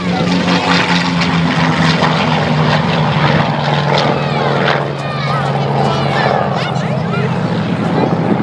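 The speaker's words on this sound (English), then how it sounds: "how many of our Cold War folks were trained in airplanes like this one, the Chinese CJ-6?" A Chinese CJ-6 propeller trainer flies past at an airshow, its steady engine drone loud and continuous throughout, with crowd and announcer talk mixed underneath.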